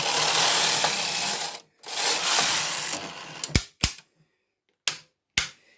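A domestic knitting machine carriage working two-yarn brioche sweeps across the needle beds in two long rasping passes, followed by several sharp, separate clacks as the settings are switched, heard close and without talk.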